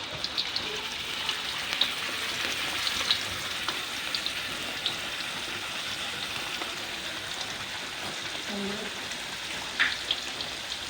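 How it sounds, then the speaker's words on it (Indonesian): Ground spice paste fries in hot oil for shredded chicken in red spice sauce and is stirred, a steady moderate sizzle with occasional small crackles and scrapes and no voices. "Kita aduk-aduk sampai baunya itu harum."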